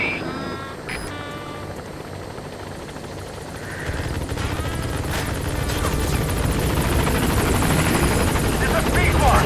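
A helicopter arrives at a landing zone in the video game Metal Gear Solid V: The Phantom Pain, its rotor chop building from faint to loud and steady, with radio voices and other speech over it.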